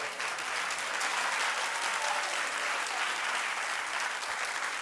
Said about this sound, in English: They clapped because she clapped.